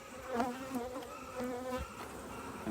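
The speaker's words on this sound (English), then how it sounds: "Now there's a lot of bees going to come out of" Bees buzz steadily around an opened hive box during a beekeeper's hive check, a dense swarm drone with a few individual insects passing close by, no talking.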